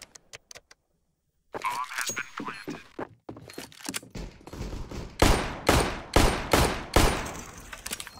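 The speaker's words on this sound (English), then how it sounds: "those are the exploding pumpkins" Exploding pumpkins on a Halloween workshop map in the shooter game CS:GO go off as a string of loud, sharp blasts, first scattered, then a dense rhythmic volley of bursts after a brief silence.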